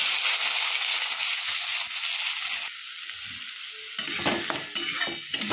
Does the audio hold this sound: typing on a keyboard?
no